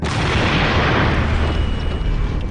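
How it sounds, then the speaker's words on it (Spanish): A large explosion gives a loud, dense, broadband roar that rumbles on for a couple of seconds without a pause before starting to fade slightly. "Ha sido una explosión muy grande, técnicamente fantástica."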